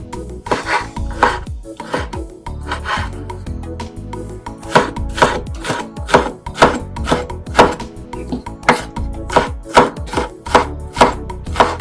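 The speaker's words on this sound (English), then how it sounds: "So it's just me cutting it into little chunks" Hamburger patties are chopped into chunks with a knife on a cutting board, giving loud, close, steady knocks that repeat quickly throughout, with no talking.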